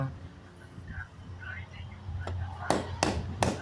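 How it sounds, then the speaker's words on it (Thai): Three sharp taps of a rubber mallet on a clutch assembly part during a clutch replacement, evenly spaced near the end, following quiet background murmur and faint movement. "เดี๋ยวก็เอาค้อนยางมาตีหน่อยครับ"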